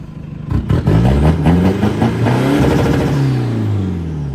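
A modified used car's engine starts and revs close by, rumbling loudly. It rises through a few throttle blips, then settles into a steady idle.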